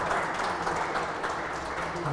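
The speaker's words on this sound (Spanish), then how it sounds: "recibimos al maestro Pablo con un fuerte aplauso" Applause from a seminar audience welcoming a speaker, a dense wash of clapping that fills the whole moment, with some voices mixed in.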